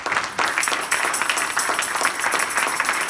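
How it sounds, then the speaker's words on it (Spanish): A church congregation applauds steadily throughout, a dense wash of many hands clapping indoors at moderate loudness. "Den un aplauso al Señor."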